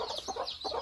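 Local hens that have just hatched a brood of chicks give a brief run of three or four close, rapid clucks.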